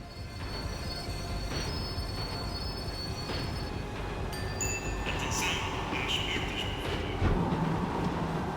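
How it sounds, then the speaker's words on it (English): A tram slowing down in Max Payne 3: a steady rumbling rail roar with high, whining wheel squeals that rise and shift as it brakes, continuous and close throughout. "The tram was slowing down, and I'd only just gotten on board."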